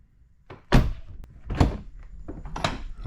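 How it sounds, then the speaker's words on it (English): A Tesla Model 3 or Model Y car door shuts three times in a row, each a solid, close thunk with a short rattle, spaced about a second apart in a quiet garage-like space. "now when I close the door"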